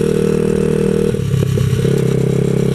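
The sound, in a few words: 127cc X7 pocket bike engine running roughly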